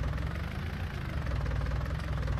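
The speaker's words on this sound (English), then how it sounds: "Use this loader tractor to pull out all these fence posts." A loader tractor engine in a farming simulator game rumbles steadily at idle, a loud low chugging drone with no voices over it.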